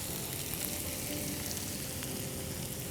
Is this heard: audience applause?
no